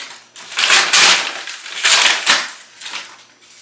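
Butcher paper ripped quickly off freshly sublimated fabric in a few rough tearing bursts, close and loud, with short pauses between pulls.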